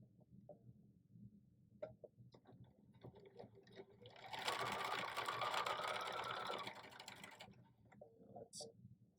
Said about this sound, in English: I'm going to sew this one the opposite direction.